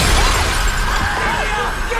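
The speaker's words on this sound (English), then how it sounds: "he comes out, smashes the window in the car." A car window is smashed in a scene from The Invisible Man (2020), a loud shattering burst of glass with fragments tinkling down, set against ringing film score tones.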